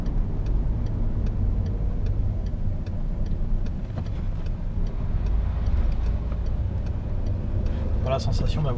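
Steady, loud engine and road rumble from a 2005 Peugeot 110 SW family estate car being driven, continuous throughout with faint ticking and a brief voice near the end.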